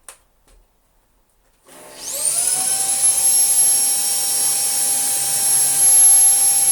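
Beldray Roller cordless vacuum cleaner fitted with a Hoover H-Lab floor head switches on after a couple of quiet seconds, motor whining up to a loud, steady high-pitched whir that holds for the rest of the clip.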